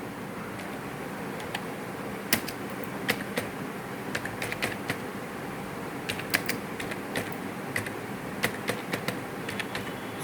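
A computer keyboard being tapped while text is typed into a PowerPoint slide, with sparse, irregular keystroke clicks over a steady faint room hum.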